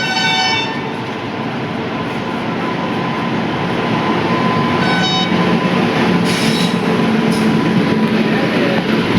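A train pulls into a station in Telangana, its steady loud rumble of wagons and wheels filling the whole stretch, with brief high squeals of wheels on rails and a faint horn-like tone partway through.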